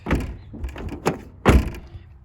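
A Ford Transit van door on a build with a new rear ladder and tire mount shuts with several solid thunks and clunks, close and loud, the heaviest near the end.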